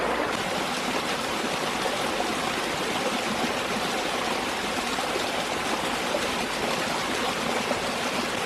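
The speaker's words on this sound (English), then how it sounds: "You walk through the river for a bit." A river flows beside a coastal hiking path on the South West Coast Path near Peppercombe in North Devon, England, a steady close rushing and babbling with no talk.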